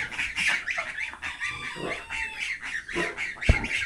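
Several turkeys gobbling and squawking close by, overlapping calls in irregular bursts.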